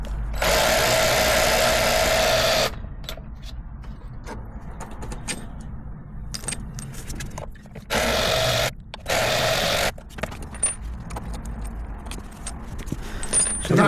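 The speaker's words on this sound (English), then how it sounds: "then we'll just use the wrench again to free them off" A wrench works bolts loose on a VW camper's CV joint, giving metallic ratcheting clicks and short clanks amid bursts of loud power-tool whirring, close up, with no one talking.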